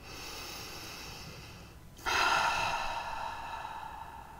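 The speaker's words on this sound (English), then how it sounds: "take a big deep breath and just let it all go" A slow, deep breath taken during a calm, guided relaxation: a soft, airy inhale and exhale, close and quiet, with a brief hush and then a fuller, louder breathy release, with no talking.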